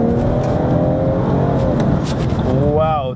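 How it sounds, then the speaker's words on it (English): A tuned BMW M240i pushed to about 500 bhp roars steadily under hard acceleration, its intake noise loud and continuous with a rising engine tone, while people talk over it inside the car. "And the intake noise is insane."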